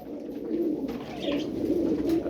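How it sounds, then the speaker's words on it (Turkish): Many pigeons or doves coo together in a steady, continuous murmur at a bird market gathering of hundreds of birds, the soft overlapping calls fairly close and unbroken, with no talk. "Bakın yüzlerce kuş var burada"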